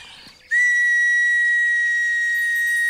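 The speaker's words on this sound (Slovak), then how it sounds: "čarovná píšťalka, prinies ich k nám" A magic whistle in a children's show is blown once, a bright, steady, piercing tone that starts abruptly and holds loud and unbroken for a few seconds after a quiet moment.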